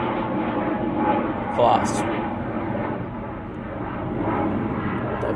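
Pilatus PC-24 business jet at Manchester Airport, a steady distant jet engine rumble throughout, heard under a person talking.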